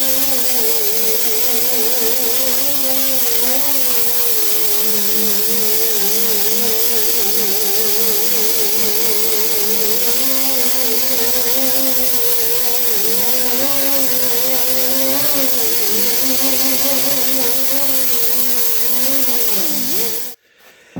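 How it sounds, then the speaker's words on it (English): Angle grinder steadily grinding down welds on thin 18 and 24 gauge sheet metal during a rust repair, a loud continuous whine with wavering pitch that holds for about twenty seconds and then cuts off abruptly. "So I'm going to go ahead now and grind all this down and get this finished."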